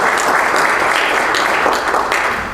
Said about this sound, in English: So if you could please just give a round of applause for Mariama Jean Curry.